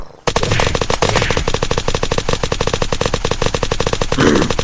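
In a Minecraft server game, a machine gun fires a continuous rapid stream of loud, close shots lasting several seconds after a brief quiet start.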